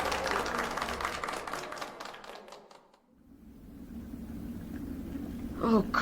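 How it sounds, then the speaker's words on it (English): Staged applause from a theatre audience, a broad crackling wash of clapping that swells loudly, drops away around the midpoint, then returns as a low crowd murmur with a voice rising briefly near the end. "the trade erupts in a storm of applause"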